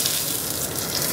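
Sliced onion sizzles in a hot pan, giving a loud, continuous hiss throughout with no pauses.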